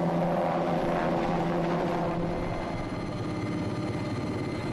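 Helicopter flying at a festival stage, a steady loud rotor and engine roar filling the whole stretch without a break.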